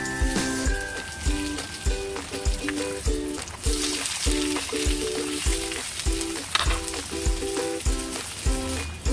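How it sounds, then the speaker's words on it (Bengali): Bengali jute leaf fritters frying in hot oil give a continuous, bubbling sizzle with soft crackles, steady and close, while light tonal music plays in the background. "হয়ে গেছে আমার বড়া ভাজা, পাট পাতার বড়া"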